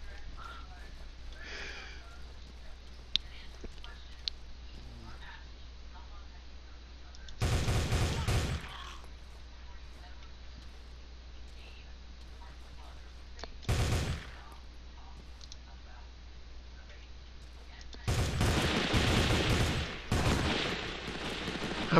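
Bursts of video game gunfire during a shootout, arriving as three or four loud, separated volleys between long quieter stretches, with a person talking at times.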